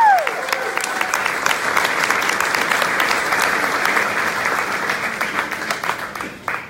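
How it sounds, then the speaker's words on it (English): An audience applauds steadily, a dense wash of clapping from a crowd that holds through most of the stretch and tapers slightly at the end. "Round of applause for Yulin, please."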